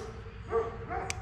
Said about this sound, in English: I don't know if you can hear it over the neighbor's damn dogs barking.